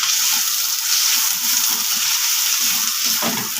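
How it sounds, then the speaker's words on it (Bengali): Ground garam masala cooking with other spices in a pan, a loud, steady close-up sizzle with faint scraping stirs underneath, no talking. "গরম মশলাটা আমি সব মশলার সঙ্গে কষিয়ে নেব।"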